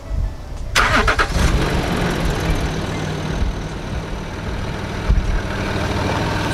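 A Land Rover Discovery 3 engine cranks and catches, then settles into a steady, fairly loud idle that runs on close by with no one speaking.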